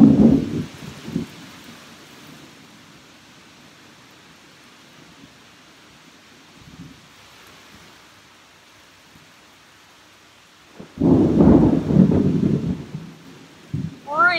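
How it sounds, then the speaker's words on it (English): Steady rain hisses on a roof throughout while low rumbles of thunder swell at the start and again near the end, heavy and close. "I love the thunder and lightning storm."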